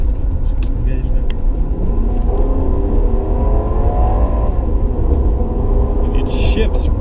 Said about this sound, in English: We're going to floor it here.